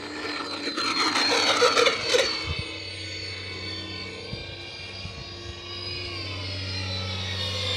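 A small airplane takes off with full landing flaps, its engine a steady close drone with tones that shift in pitch as it climbs, loud throughout with no talking.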